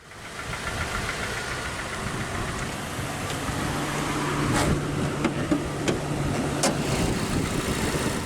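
A 2010 Ford Ranger XL with the base Duratec 2.3-liter naturally aspirated inline-4 idles close by, giving a steady, slightly knocking rumble with a few faint clicks and ticks on top.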